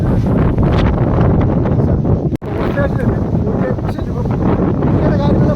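Strong wind at Kundala dam in Munnar buffets the microphone in a loud, continuous roar with one brief dropout, with a voice partly buried under it.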